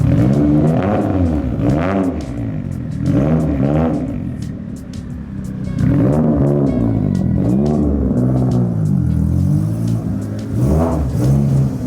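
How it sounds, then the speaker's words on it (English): A turbocharged four-cylinder Mitsubishi Lancer Evolution revs hard over and over on a dyno, rising and falling in loud, raspy surges with whooshing turbo sounds between pulls. "the turbo noises are just awesome"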